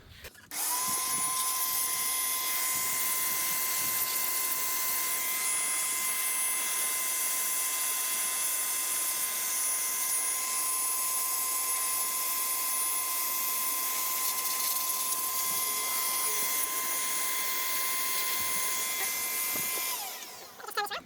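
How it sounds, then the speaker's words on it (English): An electric airbed inflator used to blow dust off a Sony KV-1612UB Trinitron television during restoration roars with a loud, steady, high-pitched whoosh and motor whine, running nonstop for about twenty seconds before cutting off. "airbed inflator, and it creates a really nice good jet of air, and yeah, works really well. It's very noisy though"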